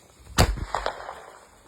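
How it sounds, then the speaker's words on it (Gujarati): A small country-made desi firecracker goes off once with a sharp pop, followed by a few faint crackles against a quiet outdoor background. "લઈ લીધી આપણી દેશી ફટાકડી."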